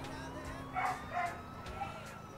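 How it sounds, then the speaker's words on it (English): A dog gives a couple of short, yippy barks close by, two quick bursts over a low steady background hum. "I think I know the reason why my dog keeps barking all the fucking time"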